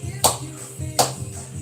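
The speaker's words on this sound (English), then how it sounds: "Clap along wherever you are." Two sharp, loud hand claps about three-quarters of a second apart, keeping time with music during a workout, over a low, steady backing.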